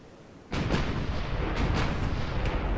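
Naval guns firing shells in Ultimate Admiral Dreadnoughts during a destroyer battle against torpedo boats: a loud heavy boom breaks in, followed by several more rumbling blasts in a dense, sustained roar.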